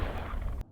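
A handgun shot booms loud and full for just over half a second before cutting off abruptly into near silence, with no voices.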